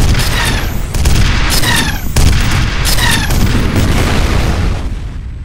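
Dense, loud enemy gunfire in the shooter game F.E.A.R., continuous booming bursts and rapid shots with sharp whizzing ricochet streaks layered throughout, no voices.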